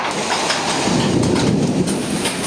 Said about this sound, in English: And it's now officially hailing.